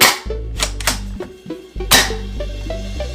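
A Spyder Hammer 7 paintball marker test fired on air after repair, a series of sharp close pops, roughly five or six shots in uneven succession with short mechanical ringing after each, no talking.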